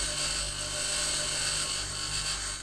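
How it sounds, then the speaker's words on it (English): A tier 3 jackhammer mines rock in the video game Occupy Mars, giving a loud, continuous, steady mechanical drone with a high whine that holds without a break. "Now I got a tier 3 jackhammer."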